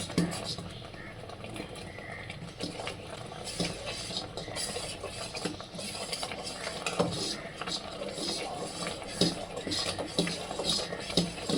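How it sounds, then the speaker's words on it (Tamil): A spoon scrapes and stirs thick kamarkattu candy mixture in a steel pan in quick, uneven strokes, with a faint sizzle underneath. "கலரிட்டே இருக்கணும் இல்லைனா அடி பிடிச்சிரும்"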